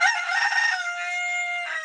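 A rooster crows loud and close in one long, strained call that holds a steady pitch before trailing off, with no other sounds around it.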